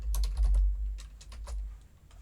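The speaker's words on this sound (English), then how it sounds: "So we're going to type contact name," Keys clattering on a computer keyboard as a contact name is typed into an SQL query, a rapid irregular burst of close, crisp strokes over a low hum.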